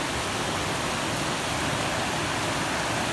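A waterfall on an Oregon hiking trail roars as a steady, dense wash of rushing water, loud and unbroken throughout with no voices.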